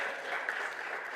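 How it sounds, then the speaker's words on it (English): Brief applause from an audience at a scholarship award ceremony, a steady wash of clapping held at even, moderate loudness throughout without any voices over it. "A round of applause for Ms. Sujata."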